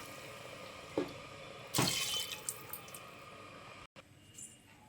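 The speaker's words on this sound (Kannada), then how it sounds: "ಎರಡು ಗ್ಲಾಸ್ ನೀರು ಹಾಕ್ತಾಯಿದ್ದೀನಿ" Water pours into a pot of chicken sambar, a short splash followed by a louder gush of liquid lasting about a second, then fading drips and small clinks, fairly close and with no talking.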